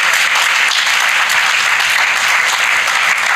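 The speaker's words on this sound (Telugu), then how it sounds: "గట్టిగా చప్పట్లు కొడుతూ దేవునికి స్తోత్రం చెప్తా" A congregation at a church prayer service claps loudly and continuously in praise, a dense, even wall of applause with no pauses, close and strong throughout.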